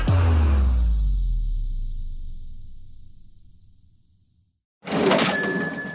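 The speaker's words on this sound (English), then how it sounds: "It's the sound of money hitting your Venmo account" A bright cash-register style payment notification chime, like a Venmo alert, rings out loud and close, decays slowly over several seconds into silence, then a short burst of noisy sound follows.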